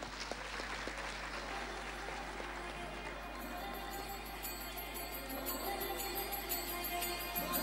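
A school annual function audience applauds to welcome student performers in a large hall. Steady, moderately distant clapping continues throughout, and music joins underneath about halfway through.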